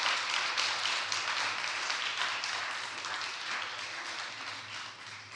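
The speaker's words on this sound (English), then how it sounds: "Let's give them a big round of applause." A crowd applauds the 3rd graders of Elliott Street School at a library card event: continuous, fairly soft clapping from many hands that holds steady and fades slightly toward the end.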